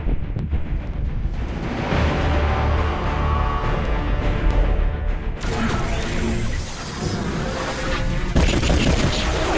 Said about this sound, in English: Bombardment systems online. Prepare for orbital strike.